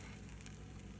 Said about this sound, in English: you can hear the sizzle when you put them in there